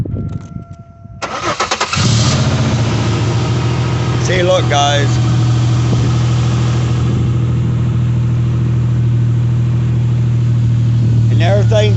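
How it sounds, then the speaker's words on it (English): A car engine cranks and catches, then settles into a steady, loud idle that runs for about ten seconds, with someone talking briefly over it. "You want to start the car just for a few."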